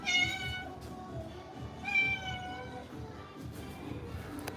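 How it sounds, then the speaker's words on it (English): A cat meowing several times at close range, drawn-out plaintive meows separated by short pauses over a low background rumble, with a person nearby. "Hello, cat."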